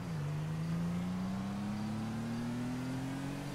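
A stolen car in GTA 5 accelerates steadily, its engine note climbing smoothly and continuously for several seconds, loud and up close with no talking over it.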